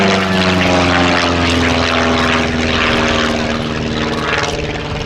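A tiny Cassutt Special Formula One racing plane flying past at an air festival: a loud, droning propeller engine roars steadily throughout and swells slightly as it passes, with no voices over it.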